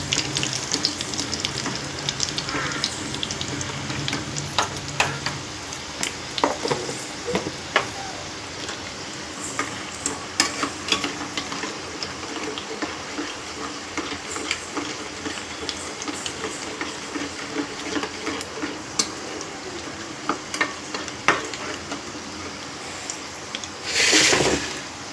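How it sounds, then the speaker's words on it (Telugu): Urad dal, cumin seeds and chana dal fry in hot oil for a mango pachadi, a continuous sizzle with repeated scraping stir strokes over nearly half a minute, ending in a brief louder burst. "ఇప్పుడు కొన్ని ఉద్దిగాయలు, తిరువాత గింజలు, జీలకర్ర, శనగలు బాగా వేగనివ్వాలండి."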